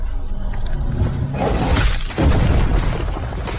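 A magical protective barrier shatters with a loud bursting crash, a booming break followed by a heavy roaring impact and lingering rumble.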